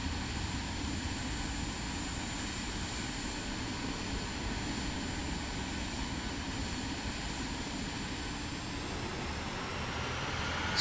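A steady airplane engine drone while taxiing in Microsoft Flight Simulator 2024, a constant even hum with no breaks that holds at a moderate level throughout.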